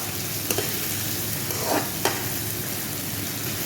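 Tomatoes sizzle steadily in a pan while being stirred for adobo sa gata, a continuous frying hiss with a few soft scrapes and clicks of the utensil.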